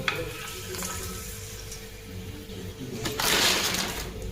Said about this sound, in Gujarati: તેલ થઈ ગયું ગરમ લાગે મને એવું પાપડ ઉપડતો